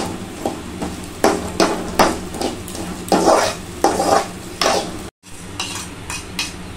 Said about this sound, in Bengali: মুসুরি ভাজা হচ্ছে।